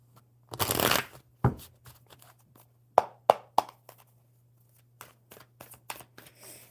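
Someone shuffles a deck of cards close by during a live card reading: a riffle burst, then a string of sharp taps and snaps as the cards are squared and cut, with quiet gaps between.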